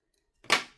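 Scissors make a single quick snip through crochet yarn while an amigurumi cat keychain is finished, close and fairly quiet after a moment of silence.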